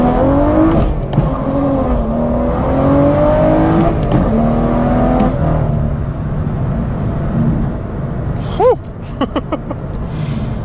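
A BMW M2 with a Bootmod3 stage 2 tune roars under hard first-gear acceleration with wheelspin, heard loud from inside the car as the engine note climbs and falls, then a short tire squeal near the end.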